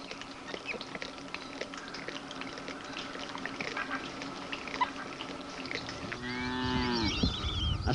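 On a Brazilian farm shared with a sugarcane plantation, outdoor background noise gives way near the end to a loud, close cow moo that swells and holds for over a second, with faint animal calls behind it.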